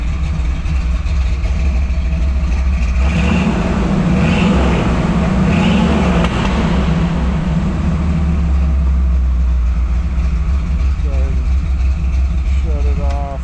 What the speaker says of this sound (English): Rev it up just a hair.